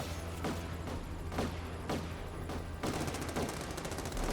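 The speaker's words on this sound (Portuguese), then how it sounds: "Tá atirando em mim." Rapid gunfire aimed at the player in The Amazing Spider-Man 2 video game, with steady bursts of automatic shots rattling over a dense, loud game background and quickening into a faster volley near the end.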